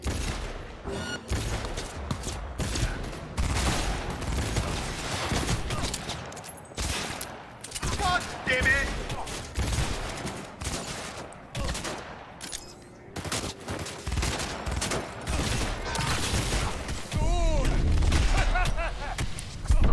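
Rapid bursts of gunfire crackle through a Cyberpunk 2077 firefight, dense repeated shots and booms running almost continuously with occasional voices talking underneath.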